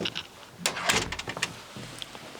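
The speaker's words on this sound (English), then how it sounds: "I'll just go ahead and shut this door here" A heavy door in a soundproofed recording studio is pushed shut, a soft thud with a brief latch click, followed by a few quieter knocks.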